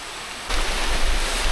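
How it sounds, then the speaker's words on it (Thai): A mountain stream tumbling down from a hillside past mossy, fern-covered rock walls, a steady broadband rush that swells louder partway through and continues without pause. "โอ้ลำธารสวยจริงครับ ไหลลงมาจากบนภู"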